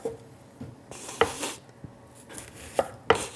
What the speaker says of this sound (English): we have to use a knife to cut this onion up